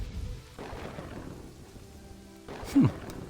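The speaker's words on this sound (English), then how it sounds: "Oh, rain. What if rain puts it out?" Rain and thunder in the village-building game Kingdoms & Castles: a steady hiss of rainfall with low rumbles, easing briefly in the middle before a louder thunderclap returns near the end.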